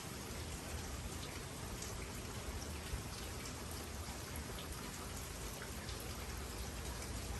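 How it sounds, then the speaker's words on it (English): Rain falls steadily, a dense, even hiss of countless raindrops spattering on surfaces, continuous and unbroken with no voices. "The raindrops are falling."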